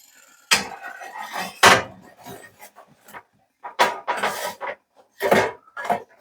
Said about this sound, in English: Let me get a sheet pan over here.